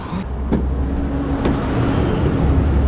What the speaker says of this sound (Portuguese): O carro passa aqui, galera, aí ó.